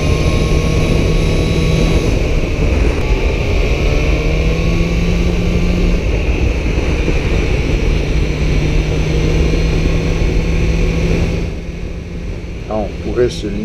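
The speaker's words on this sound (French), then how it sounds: "vous laisser profiter de cette sonorité de la Krapovic" A 2017 BMW S1000R motorcycle with an Akrapovic exhaust riding by in a loud, steady engine roar that holds its pitch and eases off near the end.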